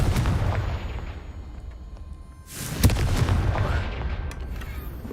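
Confringo blast spell fired in Hogwarts Legacy, a deep booming explosion that erupts partway through over a rumbling background of game ambience, then trails off with lingering crackle.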